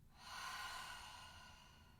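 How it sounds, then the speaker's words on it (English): A single slow exhale through the mouth during a guided meditation, a soft airy breath rising and tapering off, faint and close with no talk. "Exhale, mouth."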